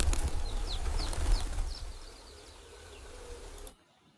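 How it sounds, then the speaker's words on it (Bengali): A loud flurry of flapping wings as pigeons take off together, with a few faint chirps, settling into quieter ambience after a couple of seconds. "পায়রা উঠতেছে"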